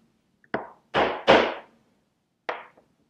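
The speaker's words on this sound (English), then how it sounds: "1/4 inch gouge, put it in its line. Just a couple of hits, nothing too much." Four sharp mallet strikes drive a 1/4 inch gouge into wood while carving arm details, close and percussive, with two quick hits together in the middle and a last one after a pause.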